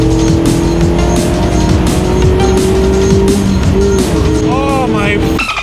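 A 2016 Mazda MX-5 with a 2.0-litre naturally aspirated engine pulls hard, its loud, close engine note droning steadily and then climbing in pitch near the end, with tire noise mixed in.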